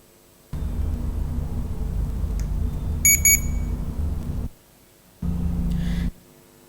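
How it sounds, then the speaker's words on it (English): Medical infusion pump sounding its high pressure alarm: a steady loud electronic tone held for about four seconds, a brief gap, then a second shorter burst, with faint beeps along the way. "So it gives a high pressure alarm."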